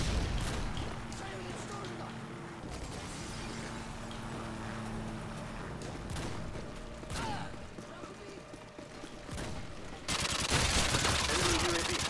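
Gunfire in Call of Duty Modern Warfare 2, scattered shots and bursts in a busy game mix, with someone talking over them.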